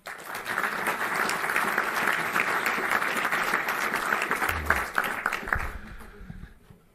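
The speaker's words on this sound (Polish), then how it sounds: "cała sala oklaskami wita w Toruniu prezydenta Bydgoszczy" A full hall of people at a Civic Platform party meeting in Toruń applauds continuously, a dense and steady wash of clapping that lasts throughout and thins slightly near the end.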